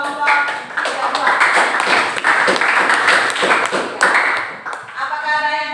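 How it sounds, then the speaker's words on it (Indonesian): Classroom applause for a student group, a lively burst of hand clapping from many people sustained for several seconds, fairly close and loud, with voices mixed in underneath. "Oke, berikan tepuk tangan untuk kelompok 32"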